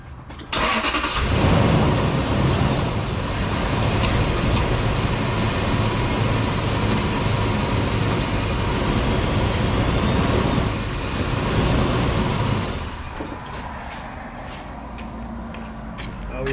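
A Lexus GX470 engine runs steadily while the transmission is shifted through the gears, a loud, continuous close drone that holds for about twelve seconds, then drops to a quieter idle with faint clicks.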